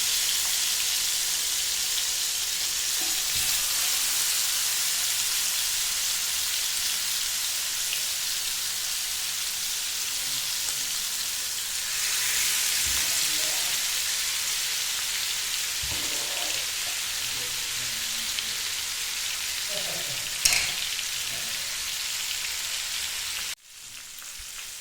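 Marinated chicken pieces for dangri kebab fry steadily in a pan over medium flame, a continuous close sizzle with light crackles and occasional stirring clinks, no voices.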